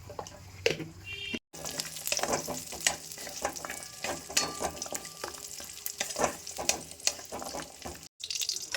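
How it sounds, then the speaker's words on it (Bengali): Cashews and raisins fry in hot oil with a busy, crackling sizzle close by, mixed with frequent stirring scrapes and clinks, broken by two brief dropouts into silence. "একটু কাজু আর কিশমিশটা একটু আমি তেলে ভেজে নেব"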